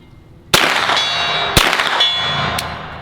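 Three 9mm rounds from a Sub 2000 carbine strike a steel gong, each a sharp ringing clang with a lingering metallic shimmer, spaced about a second apart and fairly close.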